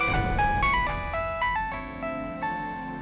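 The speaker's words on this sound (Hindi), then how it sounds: "अरे उठा ले फोन।" A phone ringtone plays as a melodic electronic tune of repeated chiming notes, fairly loud and steady over a low background hum, with no talking during the ring, in a Hindi courtroom drama scene late at night.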